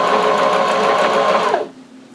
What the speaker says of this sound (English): you're still sewing the edges together